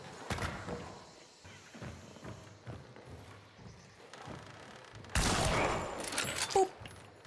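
Gunfire in the video game Hunt: Showdown, with quiet footstep-like shuffling and faint thumps first, then a sudden loud shot and echoing blast roughly two-thirds through.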